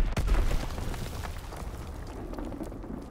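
A bomb dropped in an online shooter explodes with a loud low boom right at the start, then a long rumbling, crackling tail fades out beneath it with no speech.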